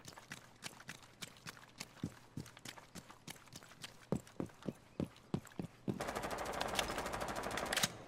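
Rainbow Six Siege gunfire cracks out in sharp single shots spaced irregularly, then breaks into a dense, rapid automatic burst near the end, fairly close.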